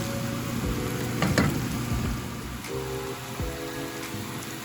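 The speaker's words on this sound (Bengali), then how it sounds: "পেঁয়াজটা ভাজা হয়ে গেছে, সুন্দর একটা ব্রাউন কালার এসছে পেঁয়াজের মধ্যে।" Onions sizzle steadily in a hot pan, a continuous crackling fry broken by a few louder stirring scrapes near the start.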